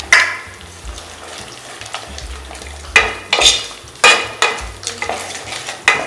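A spoon scrapes and stirs prawn Manchurian sauce as it thickens in a hot pan, with a faint sizzle underneath. The sharp scraping strokes come in an irregular rhythm and sound close and clear.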